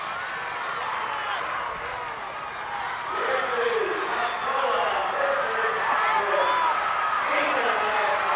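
A large crowd cheering and roaring at a 1995 girls' high school track and field state final as runners round the last turn, swelling louder toward the end, with an announcer talking over it.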